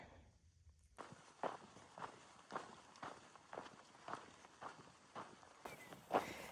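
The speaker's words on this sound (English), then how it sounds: "just walking through this huge meadow" Soft, steady footsteps at a walking pace, roughly two per second, crunch faintly over meadow ground on the Arizona Trail, close but quiet, with no talking.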